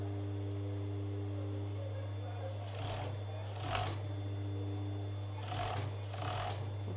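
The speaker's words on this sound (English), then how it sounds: "I'm just going to sew it around to there" A sewing machine stitches a rib neckband into a T-shirt neckline, its motor humming steadily throughout, with a few short bursts of faster stitching standing out near and clear.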